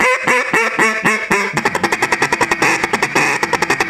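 A duck feed call is blown hard: a few separate quacks open, then a fast, steady run of rhythmic clucking chatter, loud and close with no talking.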